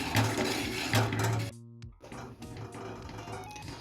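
A thick tomato papad batter is stirred in a pan with a spoon, giving a rough scraping and clatter that breaks off briefly midway and then continues steadily at close range.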